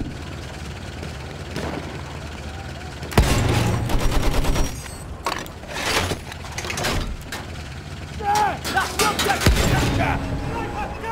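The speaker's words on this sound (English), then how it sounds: "Enemy machine gun!" Battlefield 1 combat with an enemy machine gun firing in sustained, rattling bursts, loud and fairly close, mixed with other battle noise, explosions and a voice speaking briefly.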